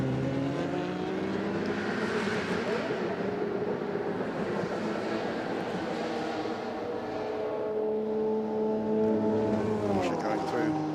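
A Porsche race car at the Le Mans Classic 2022 roars past on track, engine note rising and falling as it goes through, with a commentator talking over it.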